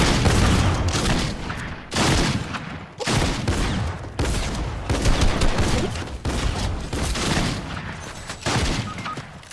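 Sustained gunfire in the Fortnite video game during squad play: repeated loud, close bursts and rattling volleys, broken by short gaps, continuing throughout.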